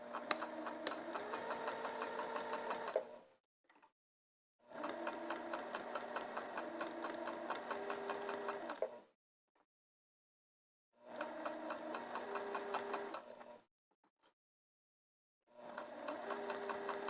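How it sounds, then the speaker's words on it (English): Sewing machine stitching fabric down in steady, whirring bursts of about three to four seconds each, separated by short silent pauses, close and fairly loud with no talking. "Okay, I'm going to sew that one down."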